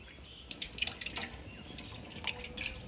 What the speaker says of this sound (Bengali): কলটা বন্ধ করো